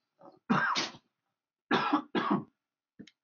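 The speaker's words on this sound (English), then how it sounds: "Getting over a cold here. Coughing a little bit." A man getting over a cold coughs in three short, separate bursts, with a tiny throat noise at the end, close and clear against silence.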